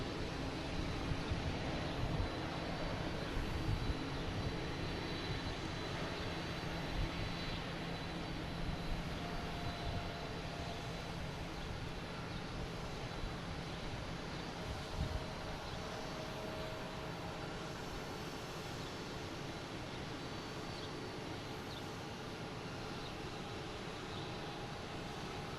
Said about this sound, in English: here is the Delta. Heading to Amsterdam, an A330-900,